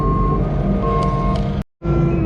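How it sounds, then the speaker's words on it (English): Reversing beeps from a stone-delivery truck hauling crusher run gravel, steady repeating tones over loud diesel engine rumble, with a brief cut near the end before the beeping and engine resume. "Another truck of stone coming"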